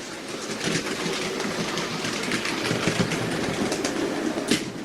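A Hornby OO gauge Black 5 model locomotive runs along track near a station, giving a steady, loud rumble with close rhythmic clicking of wheels over rail joints and a brief squeal near the end.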